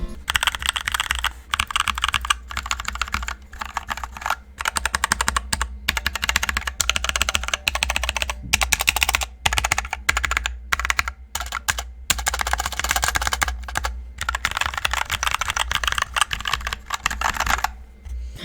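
Keys clatter on a Bugha Five Below one-handed LED keyboard in quick uneven bursts with short pauses, a close, somewhat hollow clacking with no voices.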